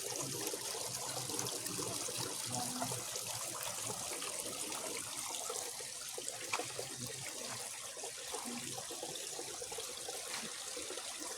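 Water gushes strongly through a cement-covered spot, a steady, fairly faint hissing rush with no pauses, heard alone without voices.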